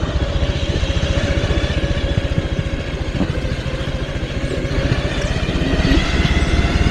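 A motorcycle ridden slowly along a winding village road hums with a steady, close engine throb and rattle that holds an even pace throughout, with no voices.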